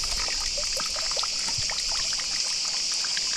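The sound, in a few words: fresh mountain spring water trickling from a fountain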